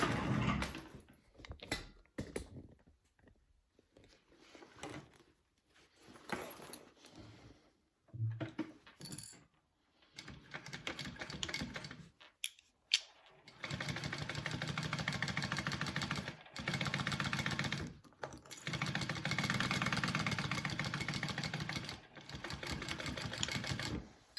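A sewing machine stitches seams on a fabric game bag, starting with short bursts and pauses, then running in long steady stretches, close and fairly loud with no talk.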